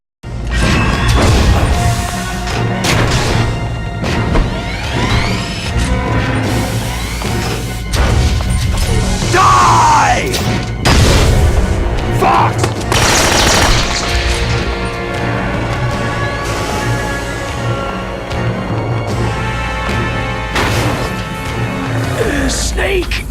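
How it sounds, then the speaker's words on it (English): A Stinger missile launches in the Metal Gear Solid video game, setting off loud crashing explosions and heavy impacts, with game dialogue running over the blasts. "Now, fire the stinger!"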